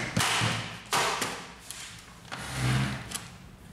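The left side panel of a Samsung ML3310 laser printer is pressed back into place, giving a few close plastic thuds and snaps with light scraping and clicking in between, clear and alone.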